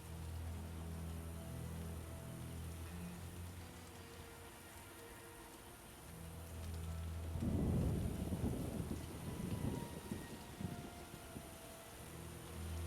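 Thunderstorm in The Witcher video game, summoned by a mage at stone posts: steady rain hiss with a low rumble, then a loud rolling thunder crash that swells and crackles for several seconds before fading back into rain.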